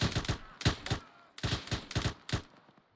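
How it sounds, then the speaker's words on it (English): Bursts of rapid gunfire in a tactical shooter video game set in a CBRN training scenario, several sharp volleys in quick clusters separated by short pauses, close and loud. "Good shooting."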